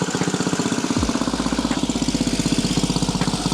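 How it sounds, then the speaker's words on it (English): An engine runs on a dyno while warming up, with a loud, steady idle of rapid, even firing pulses. A deeper rumble joins about a second in and continues throughout. "The engine's running in the background, warming up"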